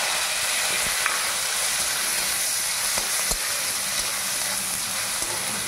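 Crushed onion, garlic and ginger paste hits hot oil with bay leaves in a pan for a cabbage dish, giving a steady, loud, continuous sizzle with faint clicks of a stirring utensil and no voices.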